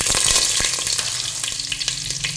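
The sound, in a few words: small onion frying in oil with mustard seeds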